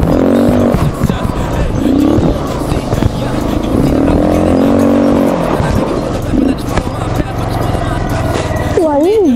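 Quad ATV engine running loud and steady, close by, with people talking over it throughout.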